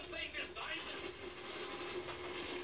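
A train rolls past in the World War II shooter Call of Duty: World at War, a steady rumbling wash of rail noise throughout with a voice talking over it.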